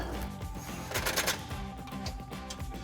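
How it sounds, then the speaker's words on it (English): An impact gun fitted with a 6-inch extension and 13mm deep well socket rattles in short bursts while tightening exhaust bolts on a Jeep Wrangler JL, with a burst in the middle and quieter hits, fairly faint against background noise. "I'm going to switch over to my impact gun with a 6-inch extension and a 13mm deep well socket"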